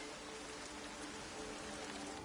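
Heavy rain pours steadily in the video game Everybody's Gone to the Rapture, a dense, even hiss with no pauses or voices over its short span.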